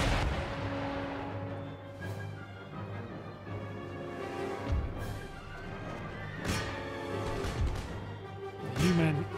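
Massed troops firing volleys in Empire: Total War, with scattered musket cracks and booming artillery thuds over a dense battlefield din of horses and rumble, with a voice speaking amid the noise.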